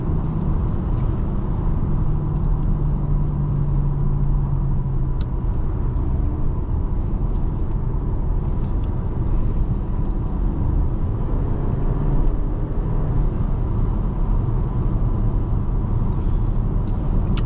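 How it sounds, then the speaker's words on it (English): Steady broadband rumble of road and wind noise inside a 2020 Kia Sportage SX cabin while driving, continuous and even throughout with a low hum underneath and no talking. "you can hear some wind noise and road noise"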